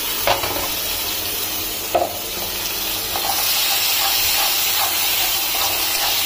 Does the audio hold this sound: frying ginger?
yes